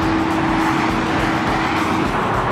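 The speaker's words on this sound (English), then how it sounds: "Oh my god, we're literally on the side of the freeway." Cars rushing past on an LA-area freeway near Ventura, heard from the roadside as a loud, continuous roar of traffic with a steady hum and no pauses, no talking.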